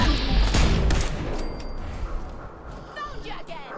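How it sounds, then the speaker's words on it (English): Rapid gunfire in Fallout 4, a dense crackling fusillade loudest at the start and thinning out over a few seconds amid game ambience, with voices talking through it. "Who's shooting?"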